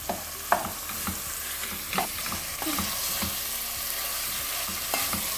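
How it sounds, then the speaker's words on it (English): Minced meat sautés with masala in a pan, giving a soft, steady sizzle broken by occasional scrape-and-clack stirring sounds, quiet and without talk. "I am going to add the minced meat now. And I will come back when I will saute this minced meat."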